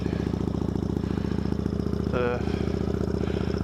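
A 2010 Kawasaki Vulcan 900 motorcycle engine runs with a steady, low, pulsing rumble throughout, close and even, with a brief rise in tone partway through.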